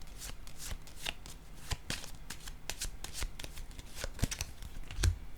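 Tarot cards are shuffled in a steady run of quick, soft riffling flicks, close and quiet, with no voices.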